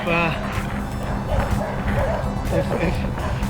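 A dog on a roadside in Colombia gives repeated yipping barks and whimpers close by, mixed with someone talking and steady broadband road or wind noise throughout.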